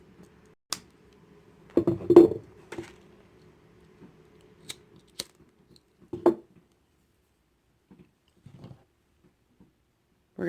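Scissors snipping thread while making M&M's kandi, a few sparse close clicks and rustles of handling separated by quiet gaps.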